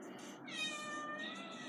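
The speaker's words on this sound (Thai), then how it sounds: "เฮ้ยมีเสียงน้องเหมียวโผล่มาด้วย" A cat meows clearly, one drawn-out, rising-then-falling meow at close range over faint background noise.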